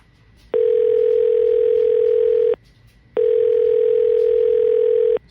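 A phone call rings out over a handset, two long steady electronic ring tones with a pause between them, clear and close, no voices.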